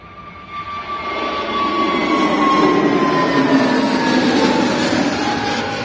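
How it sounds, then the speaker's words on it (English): A British Airways Airbus A321neo departs from Manchester Airport, its engine roar building steadily into a loud, sustained rumble with a whining tone that slowly falls in pitch as it passes. "So we're getting this A321 Neo from British Airways, going to be going back to London Heathrow"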